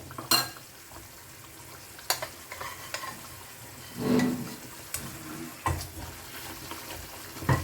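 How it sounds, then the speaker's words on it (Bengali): Rohu fish pieces drop into hot oil and fry, with sporadic sizzling bursts and clatters of a utensil in a home kitchen, fairly faint overall. "তেল ছাড়ছে, এবার আমি এর মধ্যে মাছগুলো দিয়ে দেব।"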